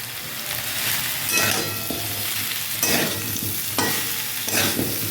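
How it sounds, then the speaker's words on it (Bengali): Ginger stir-fried with mixed vegetables in a pan: a steady loud sizzle broken by a regular rhythm of scraping spatula strokes about once a second, close up and with no talking. "আদাটা দিয়ে আবারও বেশ কিছুক্ষণ কষিয়ে দেবো"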